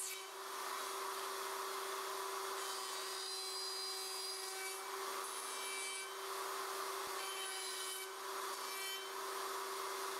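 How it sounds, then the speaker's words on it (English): A router cutting 3/8-inch box joint sockets through template openings in a wood board on a Leigh RTJ400 jig: a steady, loud, continuous whine with a constant tone, occasionally shifting as the bit moves through the wood. "Route in each template opening."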